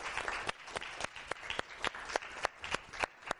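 A lecture audience at the University of Oxford Middle East Centre applauds, a steady wash of many hands with sharper individual claps cutting through, heard at a distance and fairly faint.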